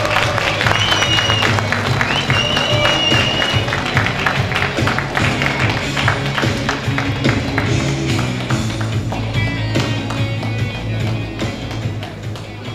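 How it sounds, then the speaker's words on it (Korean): An audience at a book launch event in Geumcheon-gu applauds steadily and warmly for over twelve seconds, sustained clapping filling the room, with some low background murmur underneath. "여러분 뜨거운 박수 부탁드립니다."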